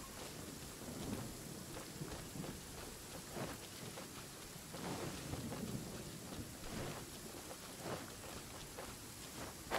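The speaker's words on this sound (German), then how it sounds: "Schade, ist Regen schon wieder vorbei, war aber ein kurzer Schauer nur." Steady rain patters throughout a short shower in Genshin Impact while low thunder rumbles roll in and out, a full stormy soundscape without voices.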